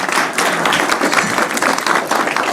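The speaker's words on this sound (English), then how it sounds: "Let's give him another round of applause." An audience at a lecture on the Sudarium of Oviedo breaks into steady, full applause for the presenter, a dense continuous clapping that stays loud throughout.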